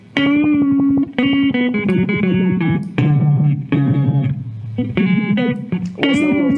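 Guitar run through a pedal with a pulsing modulation effect, loud sustained chords whose tone throbs and shifts as they change every second or so, played alone and close.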